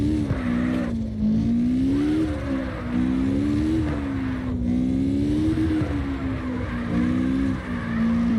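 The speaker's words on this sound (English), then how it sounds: "When it's sliding too much, I ease off the gas for it to grip." A car in the CarX Drift video game slides and regains grip, its engine holding a loud, sustained drone whose pitch swells and dips as the throttle is eased on and off, with faint tire hiss and no talk.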